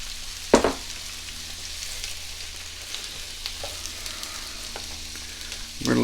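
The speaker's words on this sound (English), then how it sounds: "I'm going to throw the mushrooms in at the same time." Mushrooms stir-frying in a pan over three-quarter heat, a soft steady sizzle with a clunk as they drop in near the start and a few light stirring knocks, no talk.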